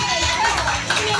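Birthday show audience clapping in a short, dense burst, with crowd voices mixed in over the applause.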